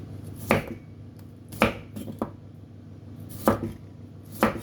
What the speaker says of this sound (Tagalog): Ganyan po kaninipis yung paghiwa ko para madaling maluto.